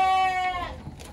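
A goat on a farm gives one loud, wavering bleat nearby, followed by fainter rustling and low background sounds.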